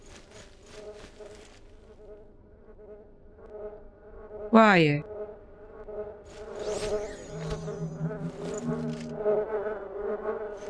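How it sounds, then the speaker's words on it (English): Mosquitoes buzzing outdoors on a grassy patch, a thin sustained whine hovering close by throughout, with a person's voice speaking briefly and a short sharp sound partway through. "Hate mosquitoes. I just hate mosquitoes."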